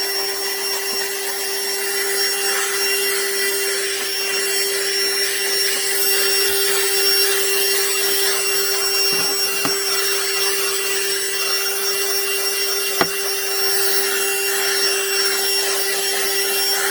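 A small 12V AstroAI car vacuum runs with its scrubby brush tool attached, giving a steady motor whine with a strong constant tone, overlaid with light rubbing and scraping and a sharp click near the end.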